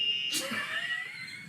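A novelty game buzzer gives one short, bright electronic blare that fades quickly. It is heard at moderate level against a quiet room.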